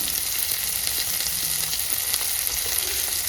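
Onion, curry leaves, ginger and garlic sautéing in a pan, a loud, dense, continuous sizzle heard up close with faint stirring scrapes and no talking.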